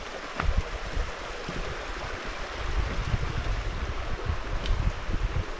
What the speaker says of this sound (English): Hiking over the creek.